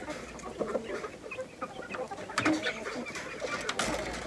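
Chickens and young chicks cluck and peep softly in a domestic coop, with a few brief louder clucks and light rustling, fairly quiet and close with no talk.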